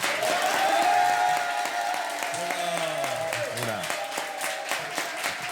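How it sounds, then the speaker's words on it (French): Audience applause in a comedy show, clapping to vote for a story, a sustained wash of claps with voices speaking over it and occasional whoops from the crowd. "Applaudissez s'il vous plaît"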